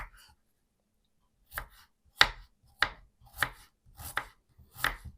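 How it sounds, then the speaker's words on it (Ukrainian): A small onion being finely chopped with a knife on a board, heard as a near, crisp series of six cuts, the later ones falling in an even rhythm after a short pause, with no voices. "Так як нарізати потрібно дрібненько."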